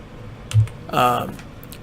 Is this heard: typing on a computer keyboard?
yes